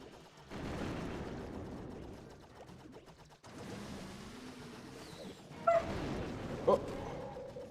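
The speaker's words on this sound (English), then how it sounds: "my dog barked and scared the hell out of me." A dog barks twice indoors, two short loud yaps about a second apart, cutting through game sound effects.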